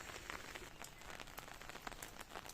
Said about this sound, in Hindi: बिना मौसम बरसात हो गई आज